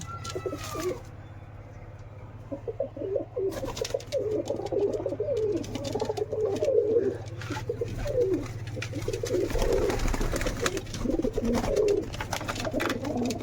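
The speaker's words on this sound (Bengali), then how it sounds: "সব কবুতরগুলো এদিকে আছে" Jacobin and other pigeons cooing in a loft, repeated low throaty coos overlapping over a steady hum, with a few soft chirps and knocks nearby.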